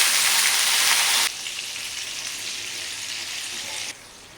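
A loud hiss of half a bowl of water hitting a hot oil tempering for dhokla, sizzling sharply at first and then settling into a quieter steady crackle.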